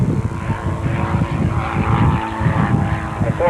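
Engine of a radio-controlled airplane performing at an airshow, a steady buzzing drone that stays loud and close throughout with slight rises in pitch, mixed with outdoor crowd ambience.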